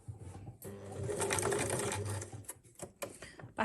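A sewing machine stitches the edges of a fabric tote bag in a close, rapid mechanical whirr lasting about two seconds. Shorter start-stop bursts and clicks follow as the stitching slows.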